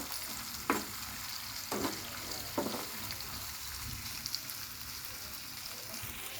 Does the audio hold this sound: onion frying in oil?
yes